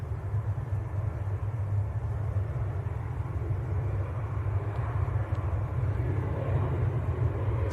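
A TUI airliner at Manchester Airport gives a steady, loud low rumble of jet engines that holds throughout, broad and continuous with no talk over it.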